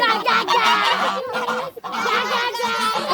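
A crowd of turkeys gobbling loudly and nonstop close by, their rapid warbling calls overlapping with a brief dip partway through.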